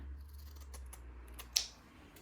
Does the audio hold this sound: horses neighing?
no